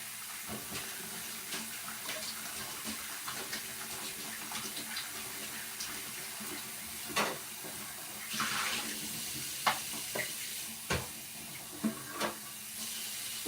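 Tap water runs steadily into a kitchen sink during dishwashing, a constant hiss broken by occasional clinks and splashes of dishes being handled.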